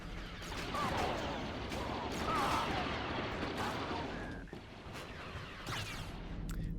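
Near-constant blaster fire fills a battle on the Nevarro map in the 2005 Star Wars Battlefront 2, with dense overlapping shots and explosions over a loud, rumbling din.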